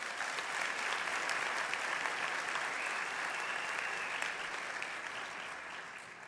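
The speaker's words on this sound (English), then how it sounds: "I think they deserve another round of applause." Sustained applause from a convocation audience at a business school ceremony: a thick, even roar of clapping from many people that carries on for several seconds before gradually tapering off.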